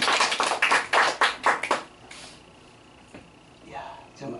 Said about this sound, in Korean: 큰 박수 해줘요.